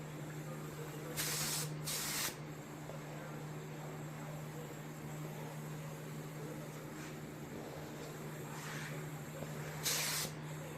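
A spray gun putting a coat of paint on the rear bumper of an AE86 with a body kit, giving a few short hissing bursts over a steady low hum in a quiet shop.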